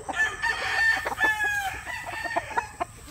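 A gamefowl rooster of a game-farm line crows in repeated bursts, loud and close, with clucking mixed in and no talking.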